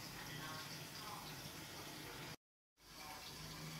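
Water pours steadily into a pot of Jamaican oxtail with broad beans, a continuous close rushing splash with a brief break before it resumes.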